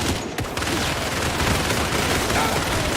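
Enemy gunfire roars in a continuous, dense volley from close range in the video game Indiana Jones and the Great Circle, steady and loud for the whole stretch.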